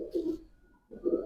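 Breeder pigeons in a loft give two low, throaty coos, close and clear, separated by a short pause.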